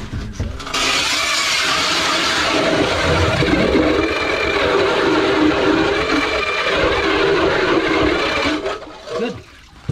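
A motorized ice auger bores a fresh hole through frozen lake ice while ice fishing, a loud steady engine drone with grinding churn running continuously for about eight seconds before cutting off.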